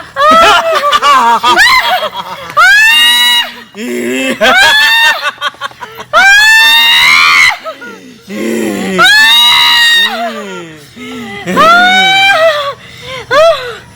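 Loud, high-pitched wailing cries and screams from a person come in repeated long bursts, broken by short gaps and whimpering sounds, in an indoor comedy scene.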